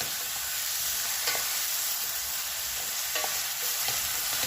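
Four medium finely chopped onions frying in a pan for boiled egg bhurji, a constant close sizzle with a few soft stirring scrapes.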